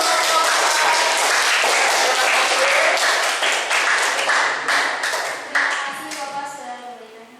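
Classroom audience applauds at the close of a group presentation during a teacher-training practice session, a steady burst of many hands clapping that gradually thins and fades out.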